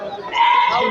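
Goats bleating at a crowded rural goat market where castrated goats and kids are sold, the calls sustained and fairly close amid the background murmur of people talking.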